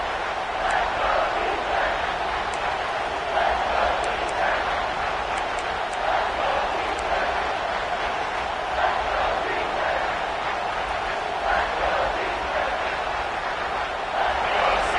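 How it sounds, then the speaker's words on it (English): A football stadium crowd roars in a steady, dense wall of noise that holds for the whole stretch, with scattered shouts rising out of it. "This crowd knows they have to bring it in big moments"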